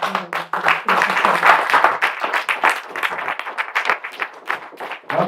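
Audience applause from a crowd at a Caribbean community event, dense steady clapping sustained throughout, close and fairly loud with no speech over it.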